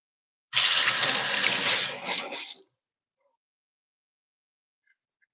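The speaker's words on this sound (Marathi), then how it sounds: "ही जरा मी धुवून घेते एकदा पाण्याने" Running tap water pours over eggplants being rinsed for a Malvani-style bharit, a steady close gush lasting about two seconds before it stops, followed by near silence with one faint small knock.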